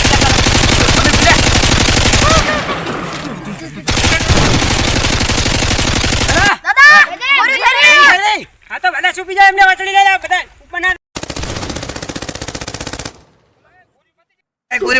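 Rapid bursts of machine-gun fire from guns in a Gujarati comedy sketch, loud and dense at first, then breaking into shorter volleys between shouted lines of dialogue.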